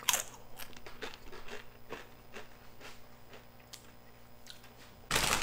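Flamin' Hot snack chips crunch and get chewed close up in a quiet room, a string of sharp, crisp bites and crackles, then a louder rustle at the end.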